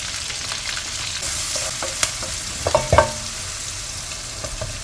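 Two large sliced onions frying and stirred in a pan of oil for a vegetable biryani, giving a steady close sizzle with a few sharp scraping clicks from the spoon near the middle.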